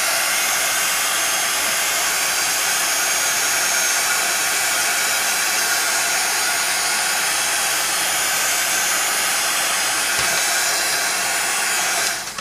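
A handheld heat embossing tool blows hot air steadily over a mixed media tile, a loud continuous whoosh that holds unbroken for about twelve seconds before cutting off at the end.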